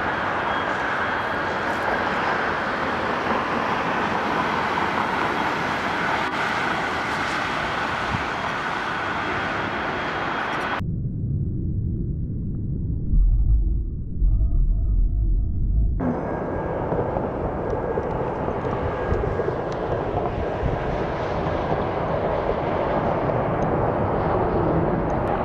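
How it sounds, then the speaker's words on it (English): Boeing 767 jet engines roaring loudly and steadily during a takeoff with a tire failure, with a lower, muffled rumbling stretch in the middle before the broad engine roar resumes. "A seemingly routine takeoff takes a wild turn as a Boeing 767 experiences a tire failure."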